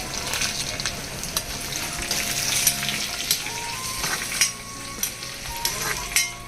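Chana dal hits hot oil in a pan, joining urad dal already frying for a coconut chutney, with a loud continuous sizzle broken by repeated stirring scrapes and clinks.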